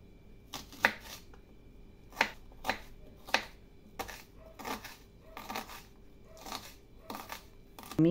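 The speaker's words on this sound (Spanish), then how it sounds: "vamos a picar una cebollita. Y la vamos a picar bien chiquitita" Finely chopping an onion with a knife on a board, a series of close, sharp taps in an uneven rhythm, about a dozen cuts over eight seconds.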